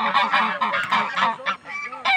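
Goose honking beside a tilapia fishing pond: a close, loud run of harsh, nasal honks that come in quick repeated bursts with no talk.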